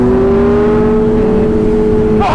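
Motorcycle engine at a bike meet holds a loud, steady high rev while the rider pulls a wheelie, a sustained close whine that ends with a short burst of noise.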